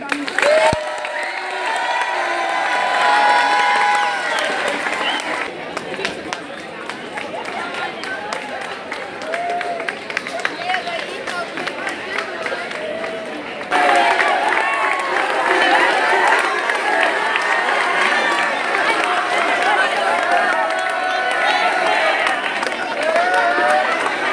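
At a Teachers Day celebration in a senior secondary school, a crowd applauds and cheers in a long, loud, sustained roar, with voices shouting and chattering through the clapping.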